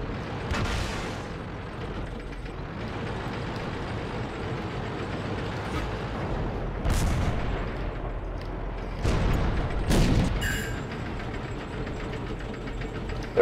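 Tank cannons fire in a World of Tanks clan battle, with several heavy booms spaced seconds apart over a steady rumbling engine drone. Each shot is loud and sharp against the rumble.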